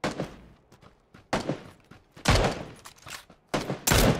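Bursts of rapid gunfire in PUBG Battlegrounds come in several loud, sharp volleys with short gaps between them, close and dominant, with no speech over them.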